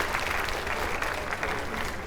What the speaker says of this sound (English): let's give a big round of applause for our speakers today.